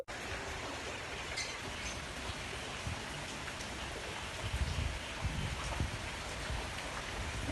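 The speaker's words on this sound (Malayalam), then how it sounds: "നല്ല മഴ എന്ന് പറഞ്ഞാൽ കാര്യമായ കാറ്റും മഴയും" Heavy, steady rain in strong wind pours down as a dense, unbroken hiss, with a few louder splashes and low rumbles partway through.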